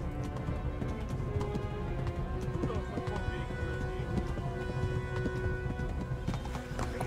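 Steady clip-clop of a horse's hooves galloping in a video game, continuous and even in rhythm under a dense backdrop, with someone talking over it.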